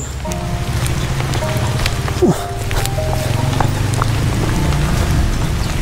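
Steady rain patters and hisses continuously, with a low rumble underneath and a few faint tonal sounds in the background.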